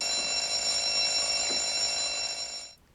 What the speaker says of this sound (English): It's his own personal security alarm.